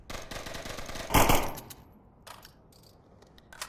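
Rapid automatic gunfire rattles from a rifle in the VR shooter Onward, with a loud burst near the middle before the shots thin out and stop. No speech.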